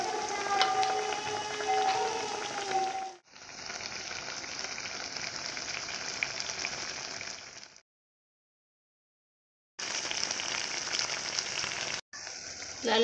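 Three potato pieces frying in hot oil make a loud, steady, hissing sizzle that cuts off abruptly, drops to silence, then returns in shorter stretches.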